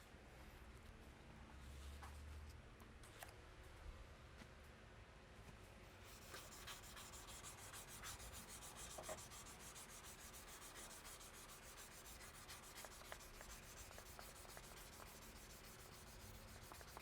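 Steady, soft rasping of sandpaper rubbed back and forth over wood by hand, quiet and continuous with faint scattered scratches.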